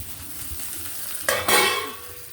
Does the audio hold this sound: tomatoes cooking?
yes